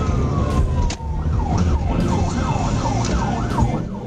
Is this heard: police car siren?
yes